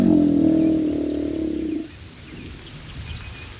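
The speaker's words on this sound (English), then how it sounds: "Modern alligators and crocodiles also bellow." Alligator bellowing in the Florida Everglades during mating season, a deep, loud, resonant low drone lasting nearly two seconds before fading into quieter ambient noise.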